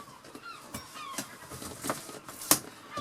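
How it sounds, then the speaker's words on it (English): Seagulls calling in the background, a few scattered faint cries and squawks spread over a few seconds with a sharper call near the end, with no talk over them. "the sound of seagulls in the background"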